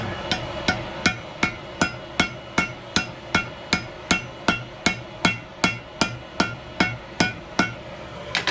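A hammer strikes a horseshoe being forged, ringing metallic blows landing in a steady, even rhythm of about two per second, loud and close, with no talking.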